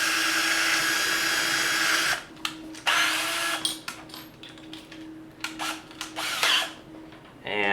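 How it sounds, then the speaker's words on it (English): A cordless power drill whirs steadily for a couple of seconds, then bursts in short stop-start pulses as it bites into the material, close and loud. "So we'll drill right there."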